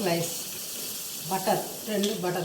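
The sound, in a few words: butter slices sizzling in a pan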